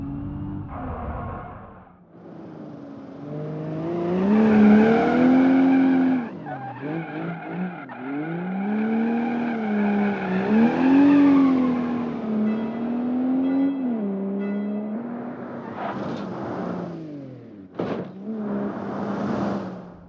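An ETKI car drifts in BeamNG.drive career mode, its tires squealing in long wavering pitched howls that rise and fall through the corners. The engine revs underneath, with a few brief sharp knocks.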